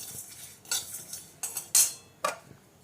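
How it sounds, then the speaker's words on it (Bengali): Spices roasting dry in a pan, heard as a few sharp scrapes and clinks of a spatula against the metal at uneven intervals, close by, with faint background and no voices. "তো মশলাটা আমার ভাজা হয়ে গেছে বন্ধুরা।"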